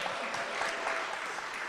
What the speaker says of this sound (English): Huge round of applause to them.